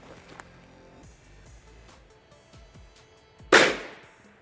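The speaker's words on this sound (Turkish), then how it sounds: "Bir torpil patlatacağız bakalım." A single sharp firecracker bang bursts out near the end in a forest by water, loud and close, after quiet background noise and faint clicks.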